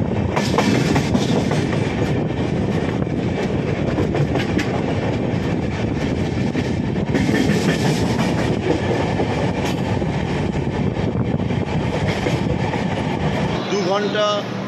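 The Howrah Ahmedabad SF Express rumbles along the track with steady clickety-clack from the wheels, a loud continuous roar heard from inside a coach, with a brief screech near the end.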